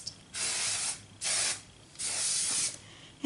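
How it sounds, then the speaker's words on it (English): Cantu shea butter oil sheen sprayed onto natural hair in three bursts of close, loud aerosol hiss, each lasting about half a second to a second. "I always spray my hair with some oil sheen, my Cantu shea butter"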